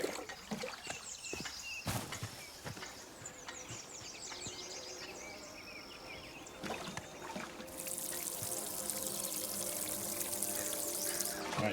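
Water pours into plant pots in the survival video game Nightingale, a steady trickling and splashing that runs the whole time. Light clicks, footsteps and faint ambient insect sounds sit under it, and the pour gets louder and brighter toward the end.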